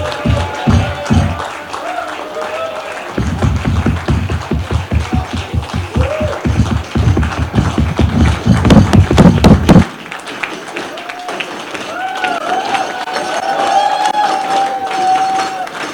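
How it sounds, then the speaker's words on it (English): Audience at a South Asia youth leadership event clapping and thumping in a dense, rhythmic burst of applause, with crowd murmur and scattered voices around it before it fades into quieter chatter. "Please give a big round of applause."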